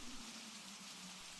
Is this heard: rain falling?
yes